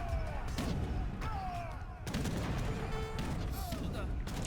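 Cannon artillery fire in an Age of Empires III battle: dense, repeated booming volleys layered over a continuous wash of combat noise, with brief tonal chirps and cries scattered throughout.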